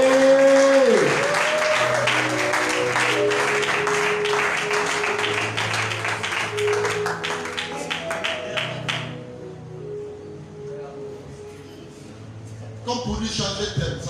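A church congregation claps rhythmically along with sustained keyboard music during a worship gathering. The applause is steady and loud for most of the stretch, then fades.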